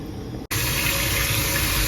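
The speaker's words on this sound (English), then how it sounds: "all I'm doing is taking it out and rinsing the container as well" Plain tap water splashes while a tofu container is rinsed in a kitchen sink, a steady close gush that starts after a brief pause and runs on without a break.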